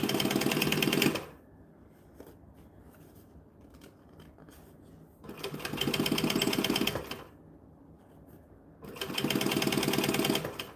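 Sewing machine stitching a bag with a long stitch length, running in three loud steady bursts separated by quiet pauses.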